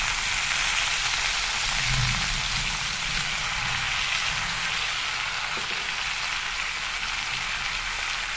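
Leucas aspera greens with green chillies frying in a hot pan, a steady dense sizzle like rain that holds at the same level throughout, with no talking.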